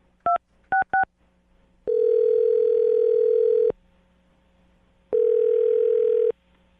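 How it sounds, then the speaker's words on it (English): Telephone keypad dialing: a few short DTMF beeps, then two longer steady tones with a gap between them, loud and clear with no voices. "I'm dialing his phone number right now."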